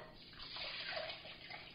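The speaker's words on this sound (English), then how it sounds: "we're going to add the water to the rice." Water pours steadily into rice in a pot, making a soft, continuous rushing splash at low volume, heard alone with no voices.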